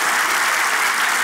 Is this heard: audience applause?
yes